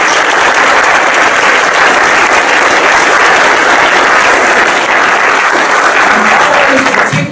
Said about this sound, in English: We want to give another round of applause, if you would, to our honorees and to our superstar volunteers.